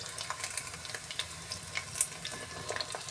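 Chicken 65 frying in hot oil on a medium flame gives a faint, steady sizzle dotted with small crackles and pops, close and without speech.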